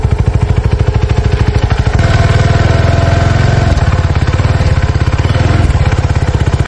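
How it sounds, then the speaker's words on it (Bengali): A Euro-standard Chinese motorcycle's exhaust runs steadily up close, a loud, even engine thrum with rapid regular pulses and some mechanical clatter, no voices over it. "আর এই যে এটার এক্সস্ট সাউন্ড"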